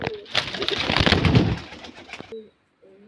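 Girbaz line pigeons from Murshidabad cooing close by in a burst of soft, repeated calls that fade to near silence, then a few faint coos return at the end.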